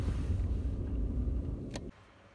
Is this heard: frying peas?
no